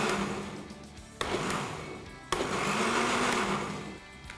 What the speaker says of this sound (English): So we'll put everything in the blender